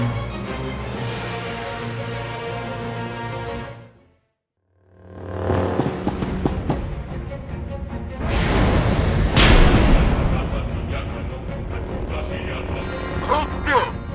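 Turrets firing in the sci-fi video game Star Wars: The Old Republic, with heavy booming blasts and rumbling effects that swell after a short silence, while characters talk over the action.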